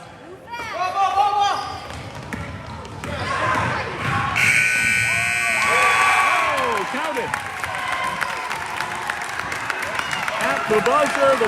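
Game-ending buzzer at an 8th grade boys basketball game in a gym, a sustained electronic tone cutting in mid-clip over crowd cheering, a commentator's talk and bouncing balls.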